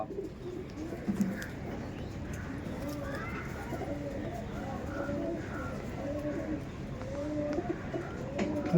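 Punjabi Malbai pigeons coo in low, repeated, overlapping calls nearby against a steady background murmur.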